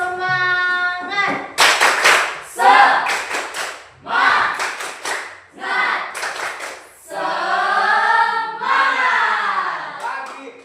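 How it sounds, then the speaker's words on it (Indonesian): A group, likely schoolchildren led from the front, performs a rhythmic spirit clap in bursts of sharp hand claps, mixed with loud chanted voices in a room. "Tepuk semangat."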